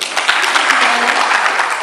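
Audience applause at a governorship election debate, a dense, continuous patter of many hands, loud and steady for the whole stretch.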